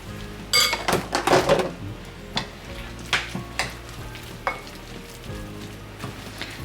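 A spoon stirs kimchi pancake batter in a bowl, giving a burst of quick scraping and clinking strokes followed by softer, intermittent taps and swirls nearby.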